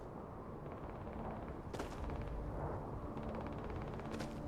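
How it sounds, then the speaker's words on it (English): Distant gunfire in the video game Starfield crackles under a constant low rumble, with a couple of sharper shots and rapid bursts scattered through the stretch. "I'm hearing gunfire."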